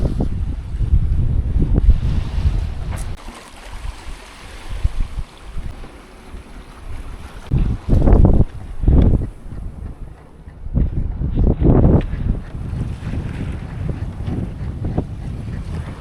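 Wind gusts buffet the microphone aboard a sailboat on a slow, calm passage in the Gokova Gulf. Low rumbling whooshes swell and ease in waves, and faint water wash runs underneath throughout.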